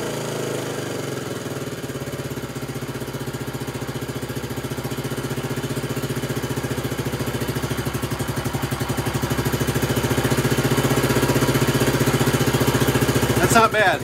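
Honda CT90 Trail 90 motorcycle engine idling after carburetor adjustment, a steady close mechanical putter that grows slightly louder over time while someone talks over it.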